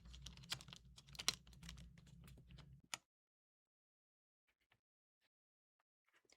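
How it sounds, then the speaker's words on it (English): Rapid, close keystrokes on a mechanical keyboard fitted with KOA profile keycaps clatter for about three seconds, then stop, leaving near silence with a few faint scattered ticks. "let's throw on these keycaps and see how they sound."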